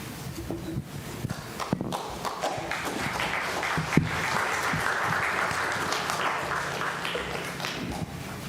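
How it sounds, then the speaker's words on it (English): A church congregation breaks into applause after a financial report, a sustained burst of many hands clapping that swells in the middle and tapers toward the end, with no speech over it. "Y'all realize you just clapped after a financial report?"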